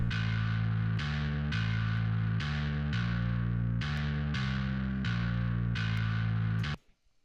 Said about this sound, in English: And then we've got a fuzz bass, which went through the Vintage Ultra